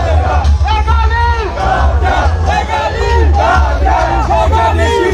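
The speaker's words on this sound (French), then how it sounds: "nous donnons un petit peu l'ampleur de la foule qui finit venir ici à Plaza" A large crowd at a cannabis legalisation march in Rose Hill chants and shouts together in loud, overlapping waves of voices, close and dense throughout.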